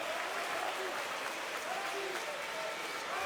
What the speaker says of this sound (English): Sold out arena here in Tel Aviv. And you can really tell this crowd is up for it